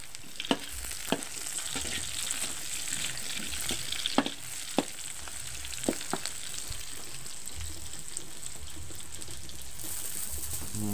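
Chili peppers frying in a pan while cooking spicy coconut-milk qurban beef on a rainy day, a steady close sizzle with sharp crackling pops scattered throughout, no talk.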